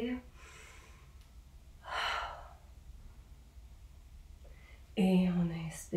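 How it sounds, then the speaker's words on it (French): A person breathes in deeply during an upper-body exercise routine, with two distinct audible inhales separated by quiet, the second louder and voiced, heard close up. "On n'oublie pas de respirer. On inspire."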